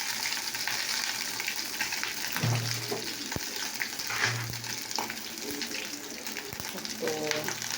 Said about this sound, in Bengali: এই ডিমটাকে আমি ভাজা করবো